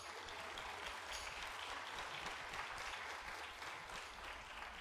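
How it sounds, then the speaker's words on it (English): At a community assembly in a historic Baptist church, a crowd applauds volunteers with a continuous, even patter of many hands, distant and fairly quiet, holding steady throughout. "Let's give them a round of applause for their hard work."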